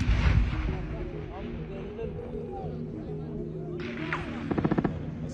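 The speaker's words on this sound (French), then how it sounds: "Alors que Malik s'approche de la distribution, des tirs fusent." Gunfire rings out near a food distribution point, with a few brief bursts of rapid shots near the end over steady crowd noise and a low rumble.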